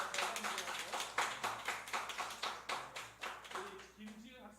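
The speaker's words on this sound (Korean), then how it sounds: "우리 한번 박수 한번 치겠습니다." Church congregation clapping hands together in a steady, rhythmic beat after a prayer, moderately close, continuing for several seconds before fading.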